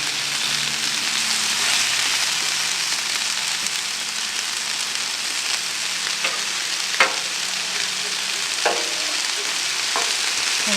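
Vegetables sizzling on an oiled, seasoned griddle: a loud, constant close-up hiss with occasional clicks and scrapes of a spatula, no speech over it.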